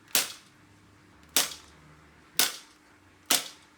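Four sharp, loud snaps from a homemade toy flintlock blaster launching half-length foam darts with surgical tubing, fired at uneven intervals with a brief decaying tail after each shot.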